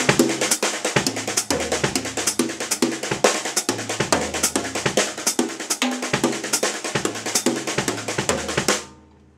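A drum kit plays a busy 16th-note groove with ghost notes, steady dense hi-hat and snare strokes over a punchy kick, close and alone, ending abruptly.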